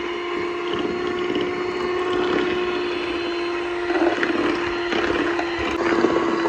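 An electric mixer creams butter with white and brown sugar for chocolate chip cookie dough, giving a continuous, fairly loud motor whir with a steady hum and slight churning variation throughout.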